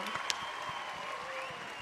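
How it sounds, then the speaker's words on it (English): A round of applause at an MLM business conference as a woman is inducted into a Million Dollar Hall of Fame, faint and diffuse clapping blended with tonal background sound. "give her a big round of applause"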